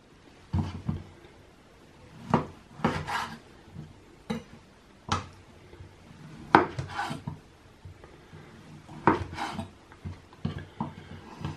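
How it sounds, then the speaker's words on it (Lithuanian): A knife slices through smoked bacon on a wooden board in a home kitchen, giving sparse, separate thuds and scraping strokes spaced a second or two apart, close and fairly quiet. "Dabar susipjaustom šoninę."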